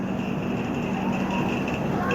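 A passenger train stands at a platform of Udaipur City railway station, a steady low rumble and hum with a broad wash of station noise, while someone talks over it.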